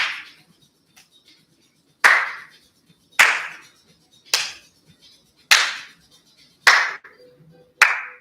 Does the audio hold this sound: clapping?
yes